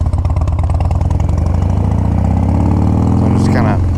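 Harley-Davidson Softail motorcycle engine running steadily while riding, a loud continuous low rumble with a rising pitch sweep near the end as it accelerates, close and dominant throughout.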